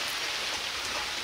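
Rain falls steadily during a rural meal of firewood-stewed chicken, a soft continuous hiss of drops pattering on surfaces, brief and even with no talk.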